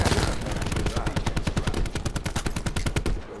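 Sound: sniper rifle gunfire in video game Call of Duty Black Ops 4

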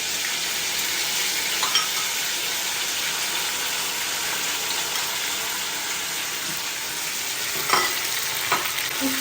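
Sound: chili and coconut paste being sautéed and stirred

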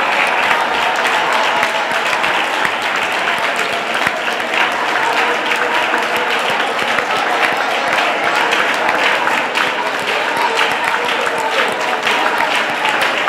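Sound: audience applauding in church

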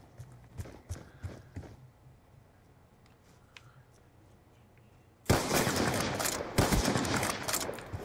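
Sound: gunshots in Call of Duty: Black Ops 2 video game

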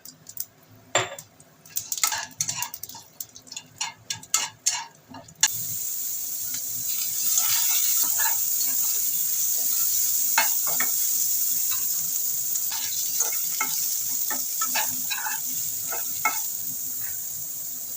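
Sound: dry red chilies and black cumin sizzling in hot oil

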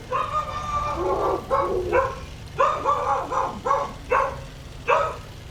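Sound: dog barking

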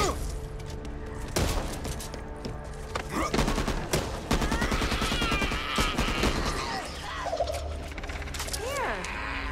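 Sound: gunfire in video game Back 4 Blood

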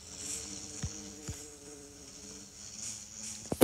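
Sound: bees buzzing in a video game with a texture pack

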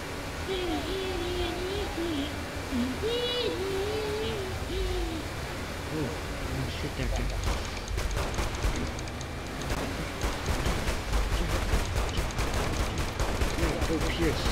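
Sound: gunfire from video game Saints Row: The Third

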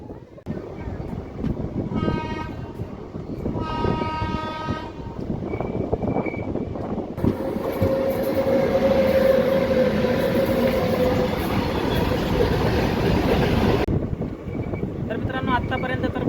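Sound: passenger train departing and running

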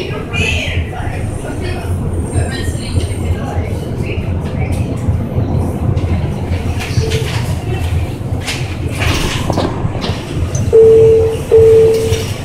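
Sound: automated metro train arriving at station

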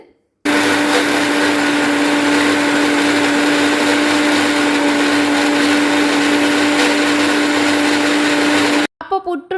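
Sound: mixer grinder beating eggs with sugar, cardamom and salt

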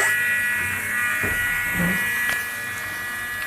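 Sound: micro-arc oxidation power source process buzzing

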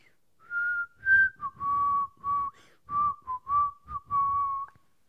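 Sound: whistling the Bad News Bears tune

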